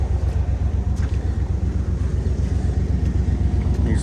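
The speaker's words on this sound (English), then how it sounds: "Little exhaust leak." A truck engine idling with a small exhaust leak at an auction inspection day, a close, steady low rhythmic chuffing pulse that runs without a break.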